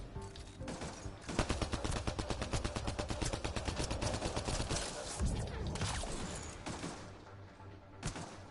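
Rapid automatic turret gunfire in the video game Mass Effect: Andromeda, dense continuous bursts of shots pounding for several seconds, loud and close, with a couple of heavier blasts near the end.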